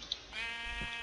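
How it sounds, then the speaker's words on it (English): A sheep in the Minecraft video game lets out a single drawn-out bleat, close and clear, with no talking over it. "No, it's the evil sheep."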